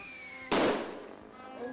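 A single loud firecracker bang bursts out sharply during New Year celebrations in Tondo, Manila, then crackling and a fading rumble linger, with fainter pops in the background.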